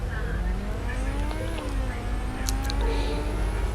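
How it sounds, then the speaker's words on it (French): A Mazda RX-7 in a Roblox game drives with a steady engine drone, its pitch rising and falling through gear changes, and short tire squeals near the end. "Cette fois, c'est une Mazda RX-7."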